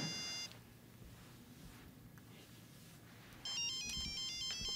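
Electronic telephone ringtone in a domestic drama scene, a brief tone at the start followed after a quiet pause by a louder repeating melodic ring pattern.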